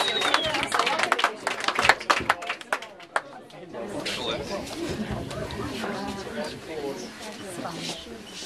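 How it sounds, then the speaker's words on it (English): Wedding guests break into a short burst of loud, close clapping to welcome a couple, which fades after a few seconds into a steady murmur of crowd chatter. "you should all clap and welcome"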